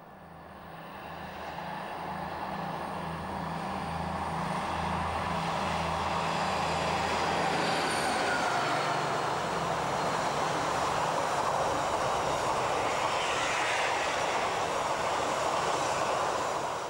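Class 218 diesel locomotive hauling the Sylt shuttle train across the Hindenburgdamm, a steady loud rumbling roar with low engine throb that swells after the first seconds and holds throughout, no voices.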